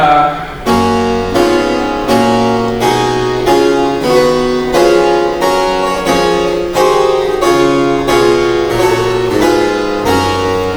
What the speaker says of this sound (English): let me first play the rule of the octave